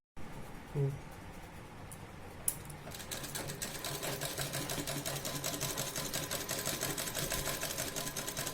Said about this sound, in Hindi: देखिए इस तरह से पूरे गले को हम लोग सिल लेंगे